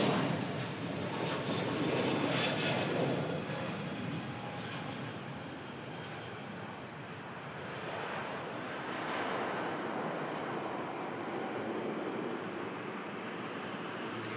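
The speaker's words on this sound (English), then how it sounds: "Turkish Neo on the takeoff roll for Istanbul." A Turkish Airlines A320neo jet roars through its takeoff roll at an airport, a broad, sustained engine rumble that swells early and then holds steady at a distance with no voices.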